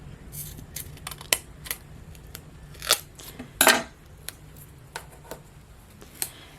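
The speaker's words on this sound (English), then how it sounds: "I'm going to cut the ghost down." Scissors snip through paper while cutting out a Halloween ghost craft, giving a string of sharp, close, separate clicks and cuts with quiet pauses in between.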